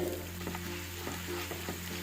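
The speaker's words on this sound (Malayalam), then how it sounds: "നല്ലോണം മൂത്ത് വരട്ടെ" Cumin, chana dal, urad dal and whole coriander seeds roast in a pan for Kerala sambar with a soft, continuous sizzle and light stirring scrapes, close and fairly quiet over a steady low hum.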